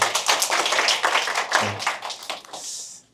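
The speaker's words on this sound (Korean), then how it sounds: "박수 한번 부탁드리겠습니다" A small audience at a real estate lecture claps briefly, a short burst of scattered hand claps that tapers off quickly after a few seconds.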